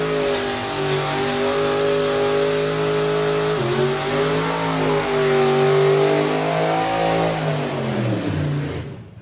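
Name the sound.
supercharged drag racing car doing a burnout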